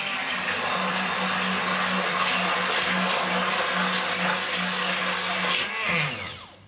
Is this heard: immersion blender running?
yes